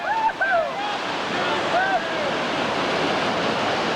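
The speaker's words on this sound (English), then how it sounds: "Now, Mad Dog Mark Turner brings his boatload down into the reactionary waves" Whitewater rapids and reactionary waves on the New River in West Virginia roar as a raft carries a boatload of people through, a steady broadband rush with brief shouting voices near the start.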